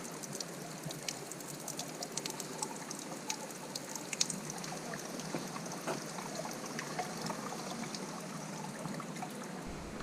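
Hot spring water in the Himalayas of Uttarakhand, India, flowing with a steady close trickle and splash that continues evenly throughout, with no voices.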